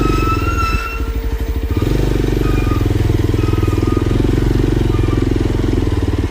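A Yezdi Adventure 2025 motorcycle rides over a muddy, bumpy off-road track, its engine a close, steady, throbbing drone that holds throughout with a brief dip in pitch early on.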